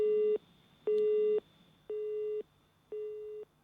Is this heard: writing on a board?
no